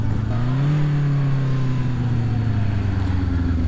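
A Yamaha XJ550 Scrambler motorcycle engine revs hard in first gear, its steady drone rising in pitch, then holding a loud, continuous note close by for the full length with no talk.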